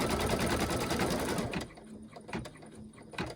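A home embroidery machine stitches a small Mylar butterfly design in the hoop, giving a loud, rapid mechanical chatter that breaks into slower intermittent stitching bursts and clicks.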